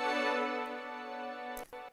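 A sampled string ensemble with all processing switched off holds one sustained, bright chord for most of the two seconds, then cuts briefly and restarts near the end.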